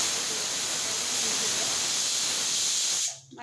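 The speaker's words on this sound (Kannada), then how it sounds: "ಕುಕ್ಕರ್ ಲಿಡ್ ಕ್ಲೋಸ್ ಮಾಡಿದ್ದೀನಿ. ಇವಾಗ 2-3 ವಿಷಲ್ ಓಡಿಸೋಣ." A pressure cooker cooking rice and lentils for khara pongal releases a loud, continuous hiss of steam through its whistle, holding steady for about three seconds before cutting off sharply.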